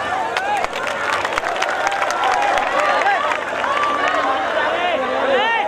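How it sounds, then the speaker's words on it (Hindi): Live stage-show audience at Ram Ghat clapping and cheering for a Prem Chopra lookalike performer, a dense, steady wash of applause and crowd noise filling the whole stretch. "जोरदार तालियों के साथ स्वागत करें आप।"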